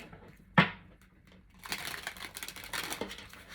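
A deck of tarot cards being shuffled, with a sharp riffle burst near the start followed by a longer stretch of soft, papery card flutter and rustling up close, with no talking.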